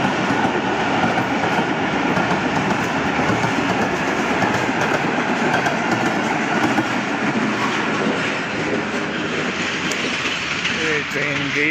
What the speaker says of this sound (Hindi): ट्रेन जा रही है।